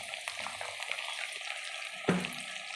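Chopped tomatoes sizzle in hot oil in a pan with onions already fried reddish, the base for a chicken and potato curry; a steady close crackle with one brief clank near the end.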